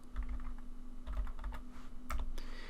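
Typing on a computer keyboard while configuring network settings on an end-user device: a few quick bursts of key clicks separated by brief pauses, close and clear over a steady low hum, no voices.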